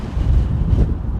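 Strong wind buffets the microphone at London Heathrow Airport, a steady low rumbling roar that swells and gusts throughout with no voices.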